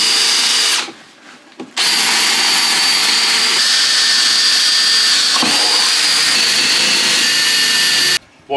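A power drill bores bolt holes through the timber of a wooden beehive-style compost bin, a loud, close, high whine running almost continuously with a brief stop near the start and a cut-off at the end.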